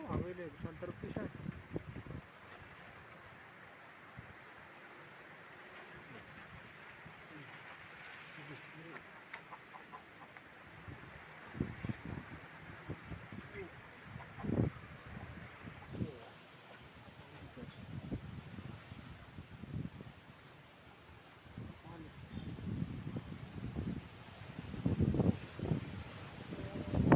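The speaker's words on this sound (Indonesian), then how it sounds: "Angin santer pisan." Strong, gusty wind blowing outdoors, roaring and buffeting the microphone steadily with louder bursts toward the end, with rustling and faint background sounds underneath.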